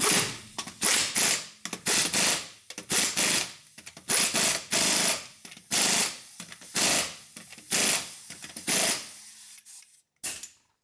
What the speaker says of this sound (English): now I'm going to tighten the lug nuts